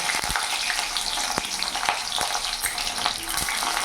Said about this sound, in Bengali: তেল গরম হয়ে গেছে, এবার কেটে রাখা বেগুনগুলো দিয়ে দেবো